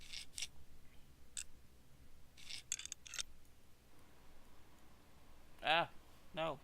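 Side panels snapping onto a PC case in the game PC Building Simulator: a handful of short, sharp clicks spread out with pauses between them, and a voice briefly talking near the end.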